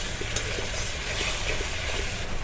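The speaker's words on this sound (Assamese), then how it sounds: "এনেকৈ মই ধুনীয়াকৈ মছলাখিনি ভাজি ল'লোঁ" Spice masala frying in oil in a pan while cabbage is cooked, a dense continuous sizzle heard up close, steady and unbroken with no talking.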